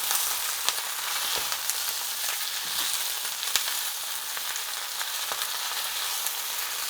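Vegetables with garlic sizzling steadily in a pan, a dense, even hiss of frying that fills the whole stretch, with faint occasional pops and light utensil ticks, close and unbroken.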